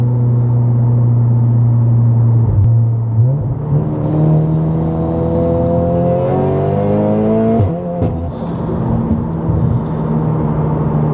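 An Audi S3 8V with a Scorpion non-resonated valved exhaust accelerates hard, its loud engine note climbing steadily through the gears with brief dips at each shift, heard from inside the car with no talking.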